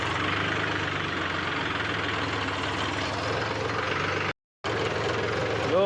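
Tractor engine idling with a load of stones in its trolley, a steady low rumbling chug close by, broken by one brief dropout before resuming.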